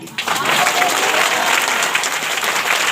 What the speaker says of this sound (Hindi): कुछ लोग ताली बजाएगा।